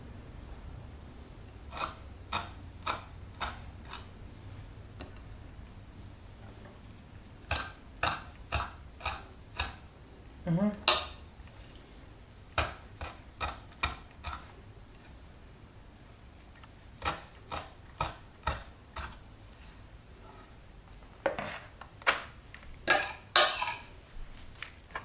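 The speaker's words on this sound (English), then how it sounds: "I cannot use sharp knife and big knife. So that's why it takes me 3 hours to cut that." Fresh parsley chopped with a small, blunt knife on a board, sharp clicking knife strikes coming in irregular bursts with brief pauses between them.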